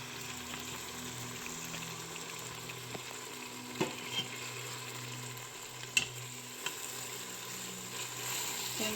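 Chilli and mint leaves sautéing in a pan for egg biryani, a quiet steady sizzle with a few sharp spoon clinks against the pan, close and without talk.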